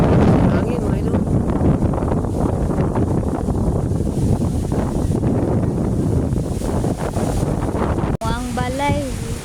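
Strong wind buffets the microphone in a constant, heavy roar at the seashore, with a voice breaking through near the end.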